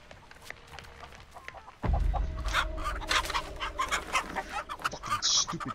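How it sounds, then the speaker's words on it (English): A chicken clucks repeatedly over a low rumbling ambience in The Texas Chainsaw Massacre video game. "Fucking stupid chicken."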